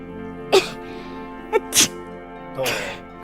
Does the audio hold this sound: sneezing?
yes